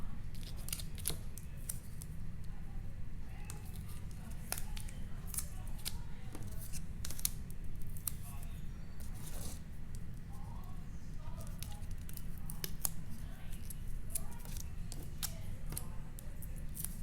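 Scissors snip repeatedly through cardstock party pieces for a handmade card, a steady run of short crisp cuts over a constant low background hum, with no talking.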